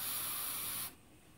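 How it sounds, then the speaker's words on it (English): A close burst of brake cleaner sprayed onto an SKS rifle barrel hisses loudly for under a second and then cuts off sharply, with no talk. "Take some brake cleaner here."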